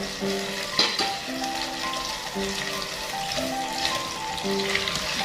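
Shrimp frying in a home kitchen pan, a steady close sizzle with light stirring clinks over a faint background hum.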